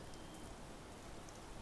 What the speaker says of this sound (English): sounds like the same as the quantum, Rainstorm sound